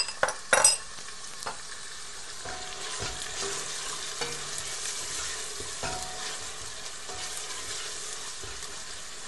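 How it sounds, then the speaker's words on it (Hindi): Ginger and garlic sizzle steadily in a pan while a utensil scrapes and stirs in occasional strokes, with a clatter near the start. "भुनेंगे ताकि अदरक और लहसुन का कच्चापन खत्म हो जाए।"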